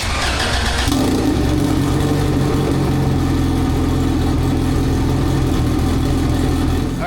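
A Honda Integra engine running on a dyno, a loud, steady, close drone with a deep rumble and constant hum, starting with a brief rise then holding at an even level throughout.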